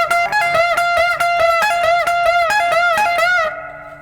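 Electric guitar playing a fast solo lick from a song, with a string bend and pull-offs, a quick run of clear picked notes that cuts off after about three and a half seconds.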